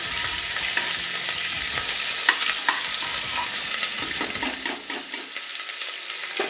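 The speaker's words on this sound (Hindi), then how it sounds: "इसमें आपको डालना है 1 चम्मच जिंजर गार्लिक पेस्ट। और इसको थोड़ा सा मिला," Ginger garlic paste sizzles steadily in a hot pan while a spoon stirs it, scraping softly in uneven strokes, close by and with no voices.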